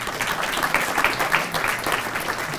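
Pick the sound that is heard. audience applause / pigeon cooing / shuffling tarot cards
audience applause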